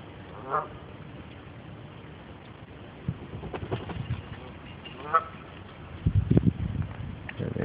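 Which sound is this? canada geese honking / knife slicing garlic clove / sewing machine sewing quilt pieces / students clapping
canada geese honking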